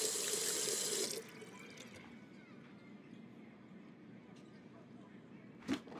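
Tap water gushing into a sink in the video game Captain Spirit, a loud, close, steady hiss lasting about a second before it cuts off, leaving quiet room tone and one brief knock.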